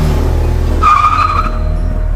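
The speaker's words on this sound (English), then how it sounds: "Tires screech. The car peels off into the night." A car's tires screech briefly as it peels off at night, a short squeal rising over a steady engine rumble with no voices.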